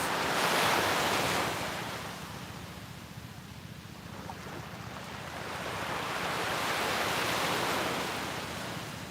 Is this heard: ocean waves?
yes